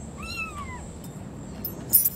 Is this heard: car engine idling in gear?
no